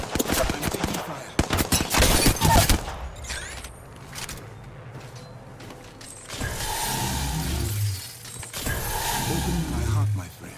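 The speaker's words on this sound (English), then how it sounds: "I'm taking fire." Video game gunfire, rapid bursts of loud automatic fire rattling up close for the first few seconds, then quieter stretches of mechanical noise before heavier rumbling effects return.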